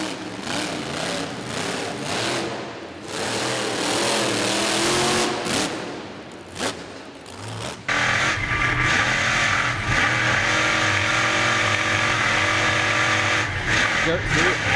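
Dirt Crew monster truck at Rupp Arena in Lexington, engine roaring loud and continuous with revving surges as it launches off the center stack, crowd noise throughout and an announcer talking over it.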